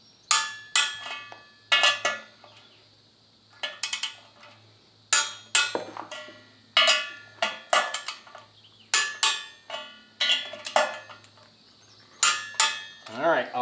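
Bursts of sharp metallic clicking and ratcheting come in repeated clusters separated by pauses, close and moderately loud, as a torque wrench tightens underbed rail bolts for a fifth wheel hitch on a Ford truck bed.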